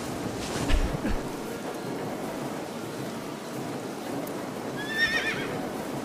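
A horse whinnies once, a short rising call near the end, over a steady rain-like background hiss with a couple of dull thumps earlier.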